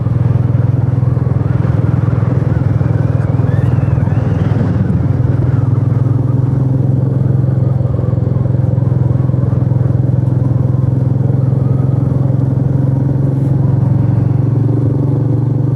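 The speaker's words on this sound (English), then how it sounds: "The single chugging away here as I pull up this hill." A Royal Enfield Meteor 350 single-cylinder engine chugs steadily under load while climbing a hill, a continuous loud low throb with some wind noise and no speech.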